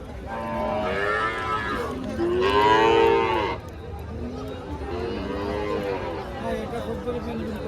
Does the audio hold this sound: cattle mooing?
yes